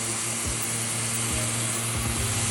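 A dual-action sander whirs steadily nearby, sanding scratches out of primer on a car body, a continuous buzzing drone with a low hum underneath and no pauses.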